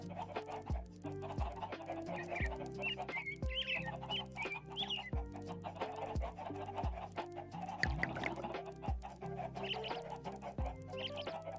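Clucking from a video game bird repeats over and over, chicken-like calls layered on a steady, plinking musical background with no talking.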